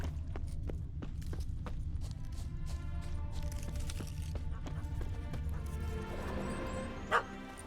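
Dog barking in the video game Witcher 3: Hearts of Stone, a series of sharp yips repeating in quick rhythm over a low ambient game hum, with a soft clopping beneath and one brief louder knock near the end.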